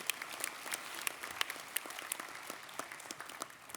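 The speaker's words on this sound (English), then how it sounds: "Let's give our NCAI staff a big round of applause for all the work they do for us." Quiet, distant applause from a convention audience honouring NCAI staff, a steady patter of many hands with a few sharper individual claps standing out.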